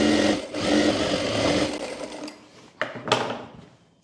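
A sewing machine stitches the bottom hem of a women's trouser pant, whirring loudly and continuously for about two seconds before stopping, followed by a couple of clicks and handling knocks.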